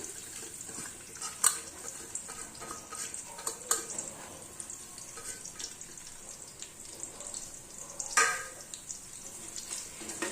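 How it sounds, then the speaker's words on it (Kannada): Chopped onions fry in a pan while being stirred, a faint steady sizzle broken by occasional scrapes and clinks of the spoon against the pan. "ಈರುಳ್ಳಿ ಇವಾಗ ಚೆನ್ನಾಗಿ ಫ್ರೈ ಆಗಬೇಕು. ಫ್ರೈ ಆಗೋ ತನಕ ಚೆನ್ನಾಗಿ ಹೀಗೆ ತಿರುಗಿಸ್ತಾ ಇರಬೇಕು ಈರುಳ್ಳಿನ"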